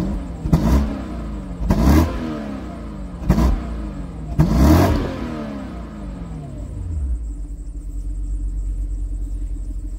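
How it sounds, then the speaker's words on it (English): Jaguar X150 V8 (XK8/XKR) engine revved four times in quick bursts, each rising and falling sharply over a steady idle, then settling back to a low, even idle, close and loud. "let's give the X150 a little rev"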